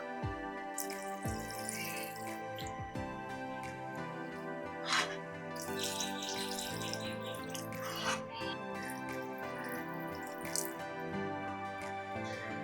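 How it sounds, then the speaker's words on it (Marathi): Water poured into a pan of chicken curry, a soft, close trickle with scattered drips and splashes, faint and low in level over steady tonal background sound. "आता पाणी घालूया."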